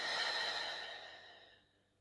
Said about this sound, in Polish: przy tym głęboko oddychamy. Dech można robić nosem, wydech ustami.